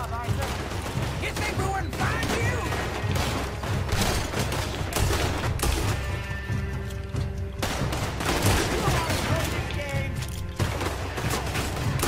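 Rapid bursts of gunfire crackle almost continuously in Red Dead Redemption 2 on PS4, with volleys and automatic fire layered over game effects.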